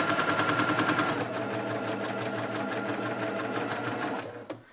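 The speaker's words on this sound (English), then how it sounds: "Let me take a couple of stitches just to get started." A sewing machine takes a short run of stitches through quilt fabric while piecing pinwheels. The mechanical whir is loud, close and steady, then stops abruptly near the end with a small click, and no one speaks.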